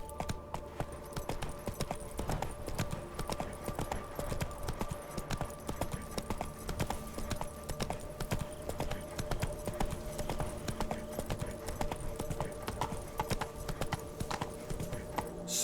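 Roach the horse's hooves clip-clop steadily in The Witcher 3, an even walking rhythm under a quiet game ambience and a low continuous tone, with no talking.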